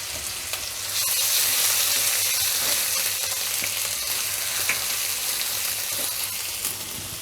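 Green chilies and ginger fry in a hot pan, with a loud, continuous sizzle and crackle that holds steady throughout with no voices.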